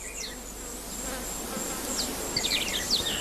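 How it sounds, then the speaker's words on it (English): A Centris scolaris bee buzzes steadily while she gathers oil from Malpighiaceae flowers with her fore and middle legs, a close, continuous drone with brief higher whines near the end. "A bee, here for example Centris scolaris, is seen harvesting the oil with her fore and middle legs."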